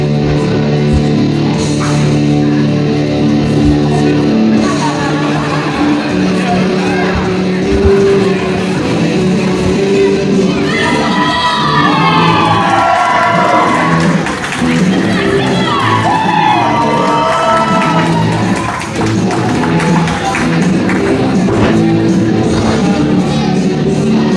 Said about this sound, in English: Definitely sounds like she's got the crowd behind her tonight